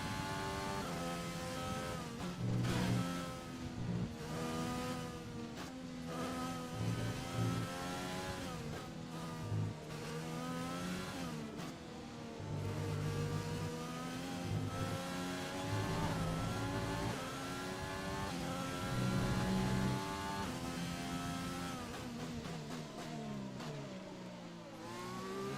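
Formula 1 race car engines in the F1 2020 racing game, high-pitched screaming engines revving and shifting through gears in repeated rising sweeps, loud and continuous with no talk.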